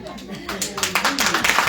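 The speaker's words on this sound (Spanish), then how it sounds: "Fuerte las palmas para Ronald" A group at a church celebration claps for a man, the claps starting loosely and quickly building into a rhythmic, fairly close run of palms while voices continue in the room.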